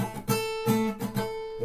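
Several plucked chords sound on an acoustic guitar in a passage with the third string muted, each attack close and distinct, ringing briefly before the next.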